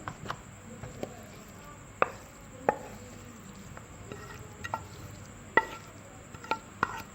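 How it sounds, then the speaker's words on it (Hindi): A spoon stirs a cooled spiced potato and chicken kabab mixture in a bowl, giving soft squishy mixing with sharp clinks of the spoon against the bowl at irregular intervals, close by over a faint high whine, with no talking. "और इसको चम्मच की मदद से अच्छी तरह से मिक्स करेंगे।"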